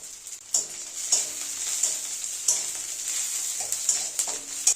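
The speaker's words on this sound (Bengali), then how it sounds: "রসুনটা দিয়ে দেবো। এটা একটু ভাজা ভাজা করে নেবো।" Garlic with dried and green chillies sizzling in hot oil, a steady bright crackle with a few sharper stir clanks, close and alone with no talk.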